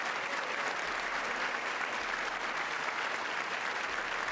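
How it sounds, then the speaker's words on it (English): An audience claps during a State of the Union address, steady sustained applause filling the whole stretch at a moderate, even level from a large room. "All they did was clap all night."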